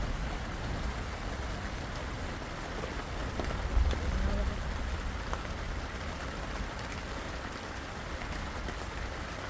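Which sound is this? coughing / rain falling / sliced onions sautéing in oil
rain falling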